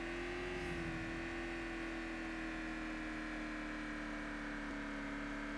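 A hot-wired car engine in a video game idles with a steady, even hum and low drone, held at constant pitch throughout, moderately loud with no talk over it.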